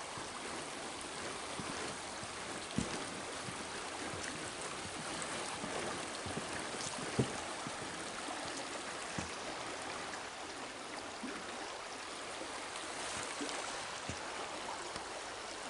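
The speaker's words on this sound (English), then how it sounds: "This is the East River." Water of the East River flowing beneath the suspended swinging bridge at Hopewell, Nova Scotia: a steady, broad rushing wash with faint scattered clicks and knocks, continuous and even throughout with no voices.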